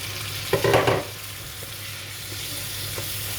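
Mixed vegetables for chicken and rice cook in a pan after a splash of water goes in, giving a brief loud sizzle that settles into a soft, steady simmer nearby.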